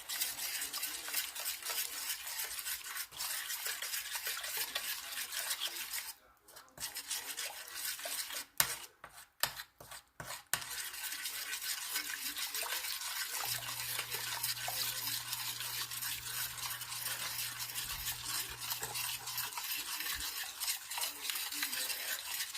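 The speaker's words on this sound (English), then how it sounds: "And stir." A spoon stirs low-carb cranberry sauce with a steady scraping swish for most of the stretch, pausing briefly in the middle before the stirring resumes.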